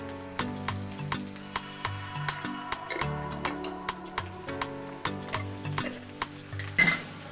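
Spices frying in a hot pan, continuous sizzle with rhythmic spoon scrapes and clinks against the pan at regular intervals, close and clear, without speech.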